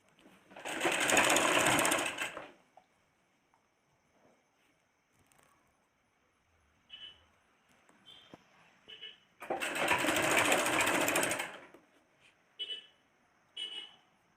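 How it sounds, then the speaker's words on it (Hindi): A sewing machine runs in two loud whirring bursts of about two seconds each, stitching the hem of a small petticoat, with quiet handling clicks and taps between the runs. "तो चलिए इसमें सिलाई लगाते हैं।"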